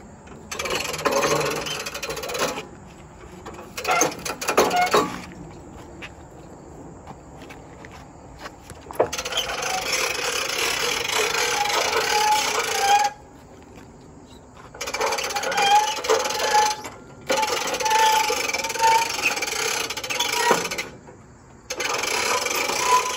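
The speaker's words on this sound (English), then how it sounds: "And now we will lift up the log lift. We'll use the winch and we'll get it into transport position." Winch raising the log lift of a Japa 365 Pro firewood processor into transport position, heard as loud mechanical rasping and grinding bursts broken by short quiet pauses.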